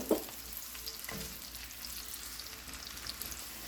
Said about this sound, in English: we're just gonna add our onion to this. And we're just gonna cook this for about 2 to 3 minutes